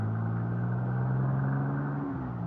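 Car engine from a radio drama, a steady droning rumble passing close by on a highway, loud and continuous with a slight pitch shift near the end.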